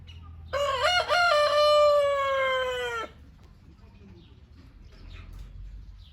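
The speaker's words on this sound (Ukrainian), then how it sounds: "Кури в шоці." A rooster at a new chicken coop lets out one loud, close, drawn-out crow lasting a couple of seconds, followed by quiet background rustling.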